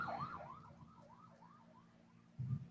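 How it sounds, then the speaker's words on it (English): Ambulance siren passing on a busy road, a steady wailing rise-and-fall sweep that fades slightly as it moves off, with traffic rumble underneath and a brief low thump near the end. "Ambulance just went by."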